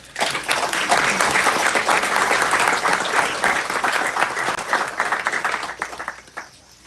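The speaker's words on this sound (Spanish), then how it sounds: "Creo que merecen nuestros aplausos." Dense, loud applause from an audience honouring the winners of a short-story contest, sustained for several seconds before tapering off at the end.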